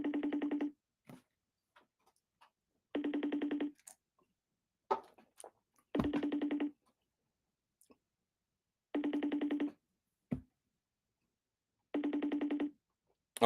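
Outgoing phone call ringing out: a steady electronic ring tone repeats in even bursts about every three seconds, with a few faint clicks between rings and no talk.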